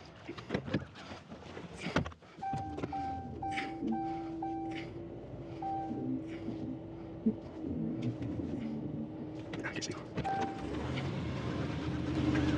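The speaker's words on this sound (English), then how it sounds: "So now I'm going to go to the truck and start backing up to the camper." A truck engine idles and rumbles at low volume while backing up to a camper, a repeating reverse beeper chirping in short bursts, with a few clicks and clunks throughout.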